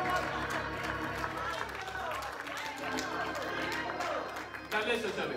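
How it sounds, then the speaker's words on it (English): A church congregation claps hands during a COGIC worship service, a continuous busy patter of many hands with crowd voices and chatter mixed in. "Come on, clap your hands."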